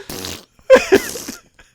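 Cartoon duck farting, a short run of three or four loud, close, blubbery bursts, alone with no talking.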